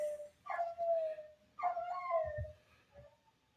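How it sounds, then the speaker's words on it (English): A dog barks and yips in two drawn-out, whining bursts close to the microphone, each sliding down in pitch, followed by a softer whimper and a dull thump at the end. "There goes my dog."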